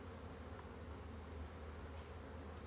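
A colony of agitated black honeybees gives off a dense, steady buzzing swarm drone, loud and continuous throughout with no voices.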